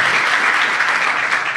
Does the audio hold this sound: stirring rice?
no